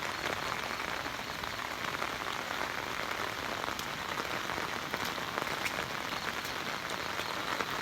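Heavy rain pours steadily through a forest in rural southern Laos during a storm, a dense continuous hiss of drops on leaves and surfaces with no voices.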